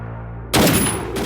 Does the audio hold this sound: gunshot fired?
yes